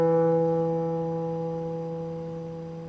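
One guitar note, thumb-plucked at the start of a country blues song, rings out close and clean, slowly fading over a few seconds with no other sound.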